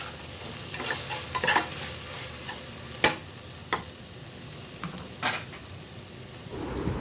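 Ground coconut masala with coriander sautéed in a pan for vegetable pulao, irregular close scraping and clattering stir strokes over a soft sizzle, with a few louder knocks.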